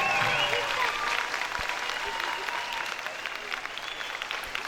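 Teachers and spectators at a school student performance applaud together, a dense, steady crowd clapping that fills the whole stretch and fades slightly toward the end.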